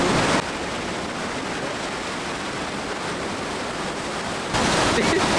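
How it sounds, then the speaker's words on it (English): A huge, loud waterfall swollen by a storm in Spain roars as a steady, dense wall of rushing water, close and continuous throughout with no voices. "I can't get over the amount of water at these waterfalls. It is huge. It's so loud."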